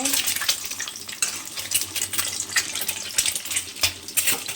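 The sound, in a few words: halved eggs frying in pan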